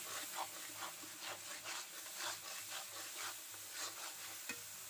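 Coriander powder, cumin powder and salt being stirred in a frying pan with shrimp, potato and ridge gourd, a steady rhythmic scraping over a faint sizzle, close and moderately loud.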